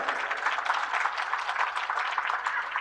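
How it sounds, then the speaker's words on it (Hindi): A satsang audience claps steadily and densely to welcome guests, a continuous room-filling applause at even loudness throughout. "उनके लिए जोरदार ताली बजा करके उनका अभिनंदन कीजिए"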